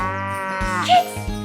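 A cow moos once, loud and close, a long drawn-out low call with a rising middle, heard alone on a farm.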